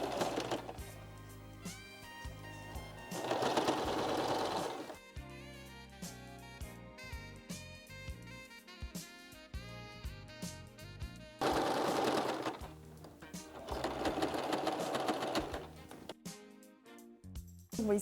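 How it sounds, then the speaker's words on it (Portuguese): A sewing machine stitches fabric in two long motorized runs, each a loud, close whirring burst of several seconds, separated by quieter stretches of clicks and handling at the start of the seam. "Todo começo da costura tem que dar o retrocesso na máquina."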